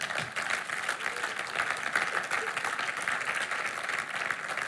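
Steady applause from a church congregation praising the Lord, dense and continuous clapping filling the room throughout, with no pauses.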